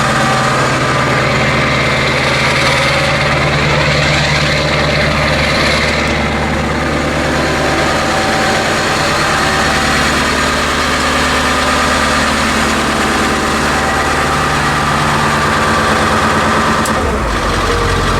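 A 7.3 Powerstroke diesel swapped into a 1976 Ford F600 truck idles steadily and loudly up close, a deep continuous rumble with a brief change near the end.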